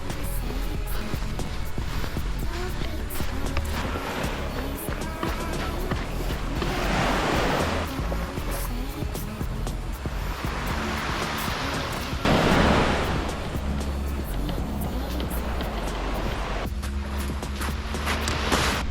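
Ocean waves on Malaga beach roll in and wash out in loud, surging swells, with steady wind noise buffeting the microphone and no talking.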